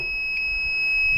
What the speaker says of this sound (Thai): แดงอยู่นะ เสียงปี๊บยาวๆนะครับ แล้วเดี๋ยวดูแบตเต็มนะครับ